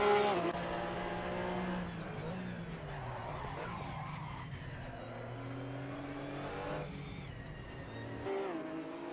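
A race car in Assetto Corsa revs hard through its gears on a speedway-like circuit, engine pitch climbing and dropping with each shift, tyres squealing through corners, loud and continuous with no talk.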